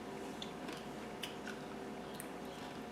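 Crunchy homemade microwave peanut brittle being chewed close up, quiet crackly bites and squishy crunches scattered over a few seconds, with no talking.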